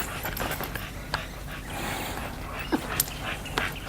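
A dog at play whimpers softly and pants in quick breathy bursts, with scattered small yips and movement noises nearby, fairly close and moderate in level.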